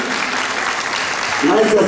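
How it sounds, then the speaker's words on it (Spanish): An audience applauds a ballet folclórico dance group at an artistic marathon event, a loud, continuous roar of clapping filling the space, with a voice rising over it near the end. "¡Que se escuche el aplauso!"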